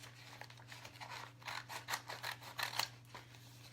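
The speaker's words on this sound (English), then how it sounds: "So you want to cut it with that backing on." Scissors snip through an IOD decor transfer with its backing sheet still attached, a run of crisp cutting and rustling strokes that grow louder toward the end, close by and without any talk.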